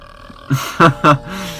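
A person lets out a few short, guttural burps in quick succession, loud and close, after a brief quiet lead-in.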